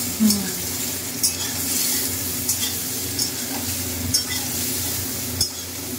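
Soybean chunks fry in mustard oil with a dense, constant sizzle, broken by a few sharp clinks as a spoon stirs them in the pan, close and fairly loud.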